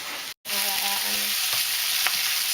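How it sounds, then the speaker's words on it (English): Onions sautéing in a pan for a banquet entree, a steady close sizzle of frying with a few soft stirring clicks and a brief dropout near the start. "the sauteed onions are looking brown and starting to soften"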